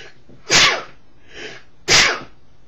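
Two loud, sharp sneezes about a second and a half apart, close up, with a softer breathy intake between them.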